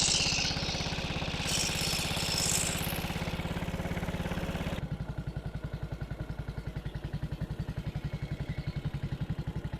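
A 1937 Sunbeam Lion side-valve motorcycle engine runs close by with a steady, rapid thumping beat, loud and mechanical, dropping to a rougher, more distinctly pulsing rhythm halfway through as the ride begins.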